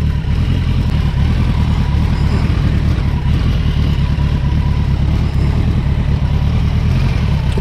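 A heavy motorbike heads downhill toward a tight corner on a Silvermines photo rally; a steady, loud, close engine drone runs throughout without clear revving changes, with no talk.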